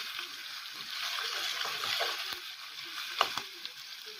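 Small strips of beef frying in a pan for beef and black beans, a constant sizzle with a few sharp clinks of a utensil stirring near the end.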